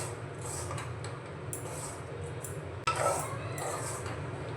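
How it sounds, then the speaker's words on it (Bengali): Ground chana dal being stirred into a spice mixture in a pan, with utensil scrapes and clinks against the pan over a steady low hum, and a sharper clatter partway through. "নাড়াচাড়া করে মিশিয়ে নেব।"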